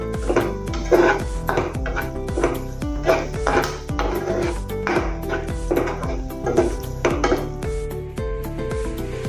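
A metal spoon scrapes and clanks steadily against a pan while garam masala and coriander powder are stirred into frying potatoes for an aloo fry sabji, with repeated close strokes roughly twice a second and no talking.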